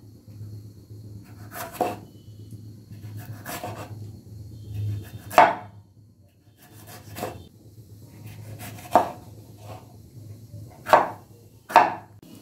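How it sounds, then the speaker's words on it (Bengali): Knife strokes finely slicing vegetables on a cutting board, about eight sharp chops in an uneven rhythm over a low steady background hum. "এটাও একটু ঝিরিঝিরি করে কাটবো।"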